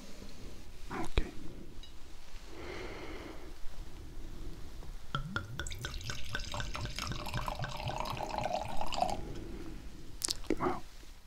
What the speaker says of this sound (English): And let's pour a glass.